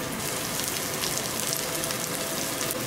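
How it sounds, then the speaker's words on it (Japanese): A pot of food cooking over high heat at a Hokkaido restaurant, with beef tallow melting in it. It gives a steady, dense sizzle like light rain that holds evenly throughout, close and moderately loud, with no talk. "鍋は強火で火を通していきます。"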